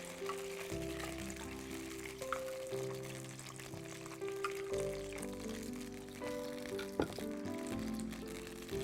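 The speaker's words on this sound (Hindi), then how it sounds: "फिर ये दही को हमें भूनना है।" Yogurt roasts in a pan and is stirred continuously, giving a low, steady frying sizzle. A tonal hum and other background sounds sit over the sizzle.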